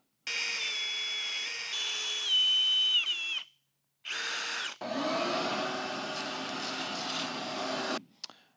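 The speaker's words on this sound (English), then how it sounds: "Then you'll need to drill starter holes for your bit" A power drill bores starter holes in wood for a router bit, heard as a loud, close whine in several bursts: a long run, a short pause, another brief burst, then a sustained lower-pitched drilling stretch, with no talking.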